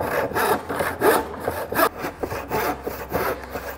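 A handsaw cuts through wood in quick back-and-forth strokes, each stroke a rasping scrape in an even rhythm, loud and close with no voices.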